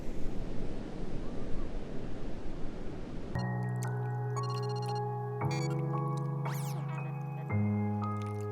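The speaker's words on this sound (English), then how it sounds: "Obviously it's quite a popular little dog beach." Surf washes in at a dog beach near Byron Bay on the Australian coast, a rushing, hissing roar mixed with gusty wind buffeting the microphone, before music abruptly takes over for the rest.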